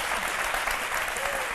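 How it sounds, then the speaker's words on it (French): Steady studio audience applause fills a TV talk-show set as a guest joins the program, dense and continuous throughout with no voices standing out. "On peut l'applaudir."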